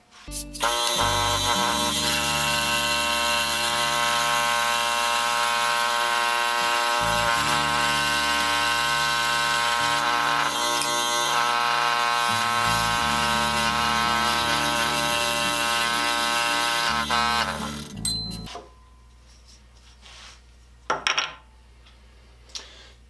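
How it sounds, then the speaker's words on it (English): A power jigsaw cuts out a wooden tool rest for a Stanley No. 8 plane project. The blade buzzes loudly and steadily for about eighteen seconds, briefly changing pitch a few times, then stops and is followed by a few quiet shop clunks. "Now I can use the power jigsaw to cut this out"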